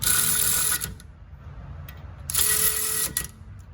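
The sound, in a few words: Snap-on Brute cordless ratchet (CTR762ODB) running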